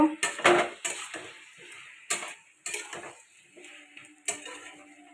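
A spatula stirs a pumpkin, potato and shrimp curry in a pan with a few separate metallic clinks and scrapes, close by and spaced irregularly, with little sizzle beneath them.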